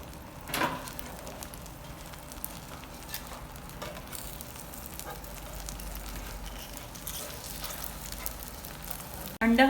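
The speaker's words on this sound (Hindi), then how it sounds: "अंडा हमारा फ्राई हो गया है, ये देखिए।" An egg fries in a pan with a quiet, steady sizzle and light crackling, soft and continuous throughout, ending in a brief clatter.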